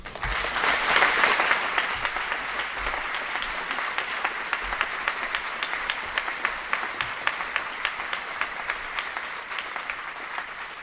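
A city audience applauds, starting as a loud dense wash of clapping that gradually thins into distinct individual claps with a steady rhythm as it tapers off.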